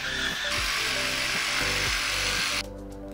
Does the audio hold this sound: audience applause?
no